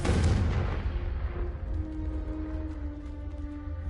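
A Confringo blasting spell detonates in one loud, close boom that opens the clip, then a rumbling roar decays slowly over the remaining seconds, with faint lingering tones.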